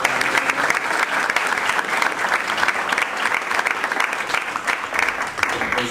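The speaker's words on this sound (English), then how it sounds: "Okay, let's give Brandon a big round of applause." An audience claps together in a dense, even round of applause that carries for several seconds at a steady level.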